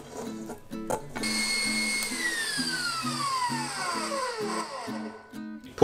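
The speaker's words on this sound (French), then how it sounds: "je vais la mettre dans la cuve du robot. Je vais la fouetter un petit peu pour qu'elle devienne lisse" A stand mixer whisks cooled pastry cream in its metal bowl, giving a steady motor whir with a pitch that slowly falls, alongside rhythmic knocking, loud and close.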